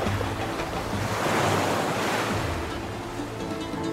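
Rough sea surf roars and crashes like a tsunami, a broad continuous wash of waves that swells loudest midway and then eases slightly, with no voices.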